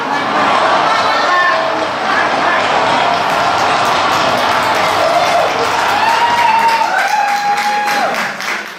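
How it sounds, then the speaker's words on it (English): An audience at a 75th birthday party claps and cheers in a loud, continuous wash of applause that holds steady for several seconds before easing slightly at the end. "Let's give them a big round of applause"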